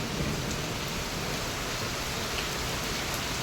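Heavy rain pours down in a dense, unbroken hiss, steady and enveloping, with no voices or other sounds cutting through.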